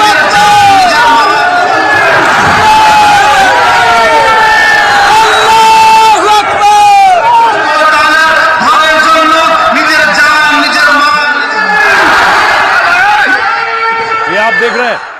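A large crowd cheers and yells at a Babri foundation event in Murshidabad, a dense, loud and continuous roar of many voices with rising whoops, close and sustained throughout.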